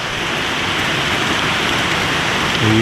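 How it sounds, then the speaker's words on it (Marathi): Heavy rain falls in a dense, even hiss that stays loud and steady, close by, with no voices. "कसन जोर पाऊस आयला पड़ा"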